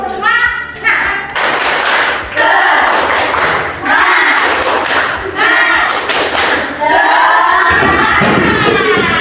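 Children doing a spirit clap, loud rhythmic bursts of clapping and thumping alongside shouted chanting voices, repeated in several energetic rounds close by.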